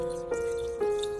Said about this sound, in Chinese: 然后再用清水多洗几遍